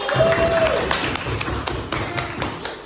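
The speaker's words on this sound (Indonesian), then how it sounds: "tepuk tangan buat Dwi" Classroom applause for a student during a microteaching session, with scattered claps building into a rhythmic series of sharp, distinct hand claps. A voice speaks briefly at the start.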